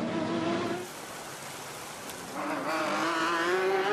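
GT Le Mans race cars, a Corvette, Porsche and BMW, roar past on the Long Beach street circuit, loud engine notes swelling, dipping briefly, then rising again with no voices.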